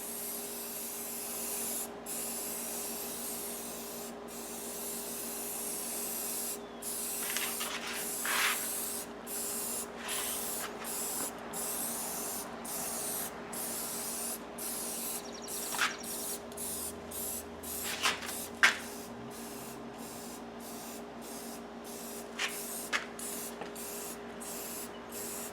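Aerosol spray paint hisses in short repeated bursts, each a few seconds long, as a second coat goes onto an aluminum car wheel, close and steady with brief gaps between passes.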